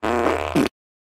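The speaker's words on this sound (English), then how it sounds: "making fart and vomit noises while changing the pitch with the analog stick in Crash Tag Team Racing" A pitch-shifted cartoon fart from a Crash Tag Team Racing loading screen, one loud, close, buzzy blast that wobbles in pitch and ends abruptly.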